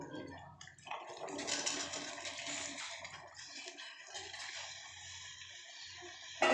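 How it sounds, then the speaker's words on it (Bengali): Soaked chickpeas with their water are poured into thickened spice masala in a pan for a chickpea curry, giving a steady splashing, gushing pour that runs for several seconds, close and fairly loud with no talk. "এখন আমি এখানে কাবলি ছোলাগুলো ঢেলে দেবো"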